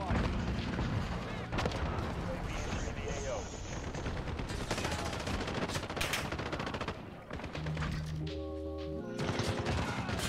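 Allied cruise missile strike in the shooter game Modern Warfare, a dense roar of explosions and rapid gunfire running loud throughout, with game sounds and beeping tones near the end.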